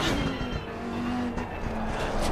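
A Lamborghini race car in Assetto Corsa Competizione brakes into a corner: a loud, steady engine drone with tyre scrub, close and continuous throughout.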